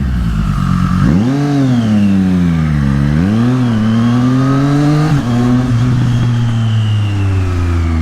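A motorcycle engine revs up and down while riding through New York City traffic, a loud, close, steady roar whose pitch climbs and dips over several seconds, with no talk.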